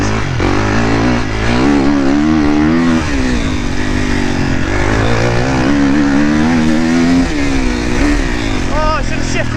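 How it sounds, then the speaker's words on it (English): A dirt bike engine revs hard and climbs in pitch as the rider accelerates, loud and close throughout, with a voice talking over the engine noise. "Oh, this bike has so much power. I'm not used to this kind of acceleration"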